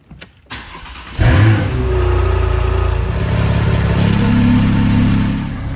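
A Porsche 911 engine cranks and catches after a brief quiet moment, then settles into a loud, steady idle and low revving close by as the car is pulled out, with no talk.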